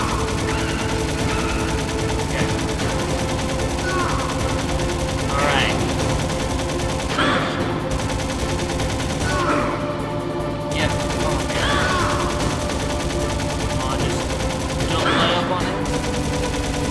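Gunfire in the video game Metal Gear Solid, including turret fire, rattles over a constant mechanical drone, with repeated bursts and sharp shots recurring every few seconds, fairly loud and close.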